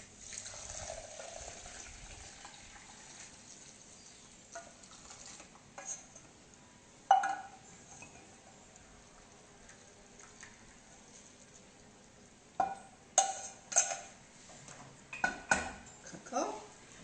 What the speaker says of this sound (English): So we're going to strain all cocoa.